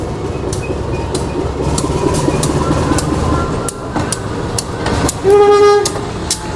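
A train hauled by a CC201 diesel locomotive rolls by close and loud, with rhythmic wheel clicks over rail joints and a short horn toot near the end.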